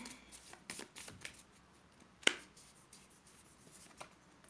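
Tarot cards shuffled and drawn by hand indoors: soft quiet riffling and sliding of cards with a single sharp snap as a card is pulled, faint and close.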